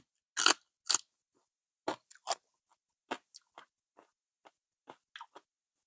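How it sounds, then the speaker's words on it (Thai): A crunchy raw fennel bulb is bitten and chewed up close: two loud crisp bites followed by a scatter of quieter crunching chews in an otherwise silent room, with no talking. "อันนี้เป็นหัวเฟนเนลนะคะทุกคนค่ะ กรอบมากเลยหัวเฟนเนลอะ"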